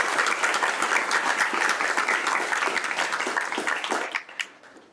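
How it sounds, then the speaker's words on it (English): Loud, dense applause from an audience at a student computing club's fall kickoff event, steady for several seconds and then tapering off quickly into quiet at the end. "we should give them all another round of applause"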